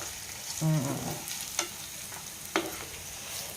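Close sizzle of a tempering frying in hot oil for ripe red chilli chutney, with a couple of sharp clinks from a spoon against the pan.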